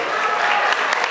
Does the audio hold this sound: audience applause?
yes